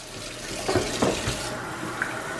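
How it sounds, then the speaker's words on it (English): Water running from a leaking faucet in an empty house, a steady hiss with a few soft splashes and drips. "replacing the faucet. Look, it leaks."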